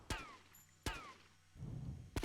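Sniper rifle shots in GTA Vice City: two sharp, loud single cracks about three-quarters of a second apart, each trailing a short echoing tail, with a third shot just after a brief stretch of low scuffling.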